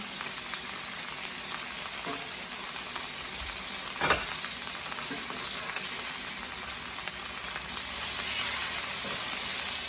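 Salmon fillets frying in a pan, a steady close sizzle and crackle of hot oil that continues throughout with a few brief clatters of turning, no talk.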